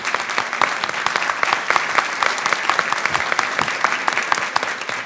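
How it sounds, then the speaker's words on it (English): Steady audience applause for panelists at the Latino Research Initiative Summit 2024, dense clapping from a large crowd filling the whole stretch without talk. "Please, a round of applause for them."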